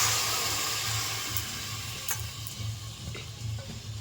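Soaked sago pearls tipped into a hot wok sizzle loudly and steadily, with occasional stirring scrapes and a soft ticking texture over a low hum, no voices.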